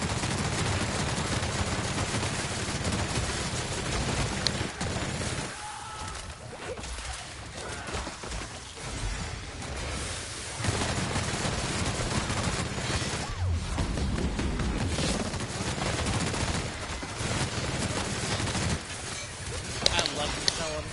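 A light machine gun fires in long rattling bursts in the video game The Outer Worlds, loud and continuous with short pauses, mixed with game effects and a voice.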